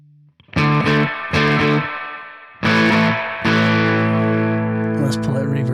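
Electric guitar through a tc electronic Ampworx Combo Deluxe 65 preamp with the gain adjusted: loud distorted strummed chords in short bursts, then a longer sustained chord ringing out.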